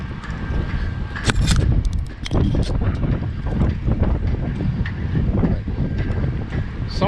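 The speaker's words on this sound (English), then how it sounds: "the wind has changed out of the north. It's about 20, 30 miles an hour." A strong north wind of 20 to 30 mph buffets the microphone outdoors at a construction site where a foundation is being pumped, roaring steadily with loud gusty rumbles.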